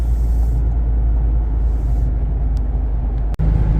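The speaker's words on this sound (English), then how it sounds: "putting the Catback Mbrp exhaust in your truck at 70 miles an hour. This is the way it sounds." A steady low exhaust drone rumbles inside a Chevy Colorado ZR2 Bison pickup with an MBRP catback exhaust cruising at 70 mph, a constant deep hum with road noise and one sharp click near the end.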